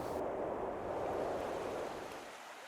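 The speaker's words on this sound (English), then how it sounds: "And the open water, while it's somewhat scary, it's just neat to hear it" Open water near Knik Glacier in Alaska rushes with a steady, broad wash, like waves or current churning nearby, fading slightly toward the end.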